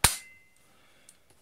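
A spring-powered airsoft Glock 17 pistol fires a single 0.12 g pellet with one sharp, close snap, followed by a quiet faint click or two.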